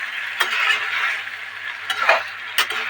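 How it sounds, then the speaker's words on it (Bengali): Chicken pieces being sautéed in a pan for Bengali kasha, a steady close sizzle with a few scraping clinks of a spoon stirring against the metal. "দেখো বন্ধুরা মাংস কষা হয়ে গেছে"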